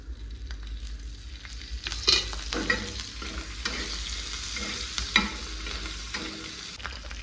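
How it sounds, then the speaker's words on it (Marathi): Green chillies fry in a pan, giving a steady bright sizzle and crackle with occasional stirring scrapes and a couple of sharper pops, fairly close and with no talk. "ही मी एका प्लेटीत काढून घेतले आणि मिरच्या टाकल्या आता भाजायला"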